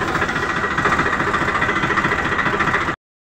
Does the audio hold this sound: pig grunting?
no